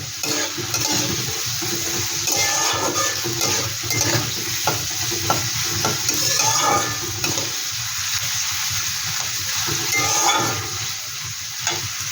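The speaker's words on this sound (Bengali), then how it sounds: "আলুটা একটু ভেজে নেব ভালো করে।" Potatoes frying in a pan while an egg Maggi noodle dish is cooked, giving a steady close sizzle with scattered stirring scrapes and clinks throughout, no talking.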